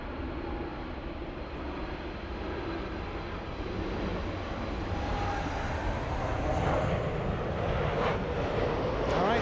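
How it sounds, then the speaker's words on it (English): A Boeing 747 airliner passes far off near LAX, its steady distant jet roar broad and continuous, slowly building in loudness across the whole stretch with no talk over it. "747 crossing in distance"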